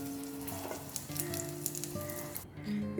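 Chillies and coconut dry-roasting in a pan, a soft, faint sizzle with light scraping and stirring, cutting off briefly before resuming.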